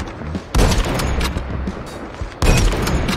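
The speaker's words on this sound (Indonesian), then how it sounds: "Ngeri sih ini sniper ya." A ZRG 20mm sniper rifle fires in a video game: two loud, booming shots, each followed by a long rumbling tail, with a quieter stretch between them.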